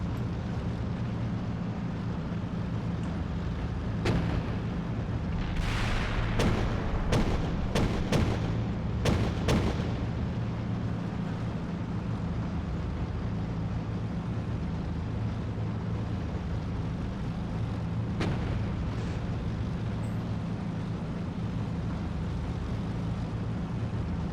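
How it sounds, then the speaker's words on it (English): Incoming artillery and gunfire in the Steel Beasts Pro PE tank simulator: a cluster of sharp distant bangs and cracks over a steady engine rumble, with a few more isolated shots later. "We're taking fire here."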